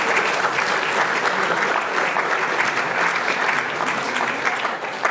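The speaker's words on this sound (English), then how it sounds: "How about another round of applause for all of our finalists?" An awards ceremony crowd at an ethnic business awards gala gives the finalists sustained, even applause that fills the room from start to finish without letup.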